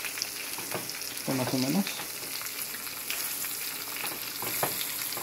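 Breaded fish fillets fry in a pan with a steady, close sizzle that holds throughout, and a brief voice speaks over it.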